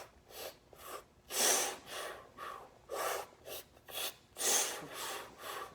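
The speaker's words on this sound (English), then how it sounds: "I'll breathe in 2 smaller sips of air, and then I'll blow out most of my air" Trumpet-practice breathing exercise, two short sipping inhales followed by forceful pushed exhales, repeated in a clear rhythm; close, breathy and fairly quiet with no talking.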